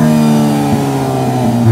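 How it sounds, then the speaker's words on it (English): A 2023 Hyundai Elantra N in normal exhaust mode gives a loud, steady rev close by, with a sustained engine drone that rises briefly midway and then holds without pops or crackles. "Let's hear the exhaust. All right, yo, give me a rev."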